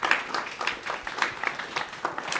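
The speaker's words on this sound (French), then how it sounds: "vous pouvez vous applaudir" Workshop participants applaud themselves at the end of a group session on mountain commons, a steady patter of many hands clapping at moderate loudness with no talk over it.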